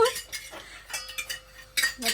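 A few light clinks of a spoon against dishes, brief and close, separated by short quiet gaps.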